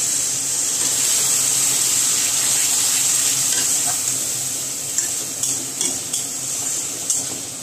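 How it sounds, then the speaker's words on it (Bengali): Water is splashed into frying tomato masala for a big pomfret fish kalia, raising a loud, bright steaming sizzle that slowly settles, with occasional stirring clicks of a spatula in the pan. "এবারে মশলাটা পুড়ে যাবে বলে আমি একটুখানি জল দিয়ে দিলাম।"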